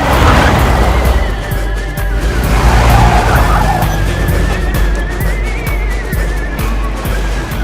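A car driven fast on a road, engine roaring steadily throughout with sharp tire squeals and skidding whines rising over the noise, close and loud.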